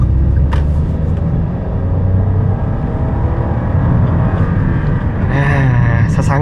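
A Rocky 1.2 manual car accelerates hard on an empty road, its engine drone rising loud and close through the gears, with a short voice heard near the end over the running engine.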